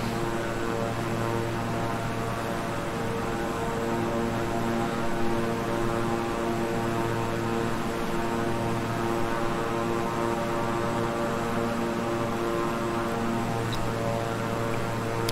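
A twin-engine King Air 350i turboprop in Microsoft Flight Simulator drones steadily and loudly in flight as it slows toward landing, a constant propeller and engine hum with tonal whine and no talk.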